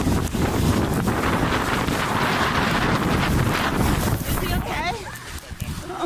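Strong wind roars into the microphone at a paraglider launch, a loud steady buffeting rush that sits close and constant, with people shouting and talking under it.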